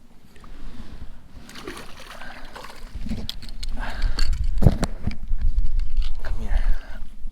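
A hooked crappie thrashes and splashes at the water's surface while being landed during solo backpack fishing, choppy watery slaps and splatters up close, with someone talking over it.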